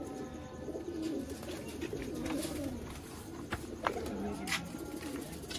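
Sialkoti pigeons kept by a pigeon fancier in Sialkot coo in soft, low, repeated warbling calls over a quiet outdoor background, with no speech.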